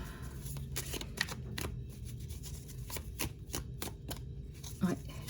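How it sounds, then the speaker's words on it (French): Cards handled close by during a tarot-style reading, a series of soft crisp flicks and slaps as cards are shuffled and one is turned over. "j'ai une carte qui est retournée"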